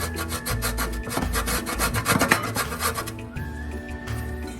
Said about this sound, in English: we're gonna zest it first, but we don't have a lemon zester, so we're using a cheese grater